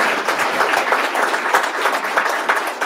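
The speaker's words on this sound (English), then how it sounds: "All right, Lynn, let's give our SMA a big round of applause." An audience at an Association of the United States Army coffee series event claps for the Sergeant Major of the Army, a close, continuous burst of many hands clapping with no speech.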